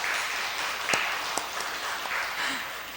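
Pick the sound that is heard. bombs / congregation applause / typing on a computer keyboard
congregation applause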